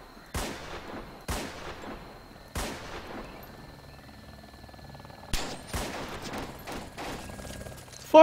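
Gunfire in a zombie survival video game: single loud shots spaced a second or so apart, then a quicker cluster of shots, with faint ambient game noise between them and no talking.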